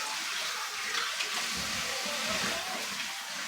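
Tap water runs steadily over canning jar lids being rinsed in a sink, a continuous broadband splashing hiss that holds level throughout with a slightly fuller, deeper gush in the middle.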